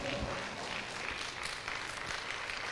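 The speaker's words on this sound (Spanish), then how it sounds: "dele un fuerte aplauso al Señor" Dense, steady applause from a church congregation honoring the Lord during a service, a continuous wash of many hands with a voice faintly mixed in.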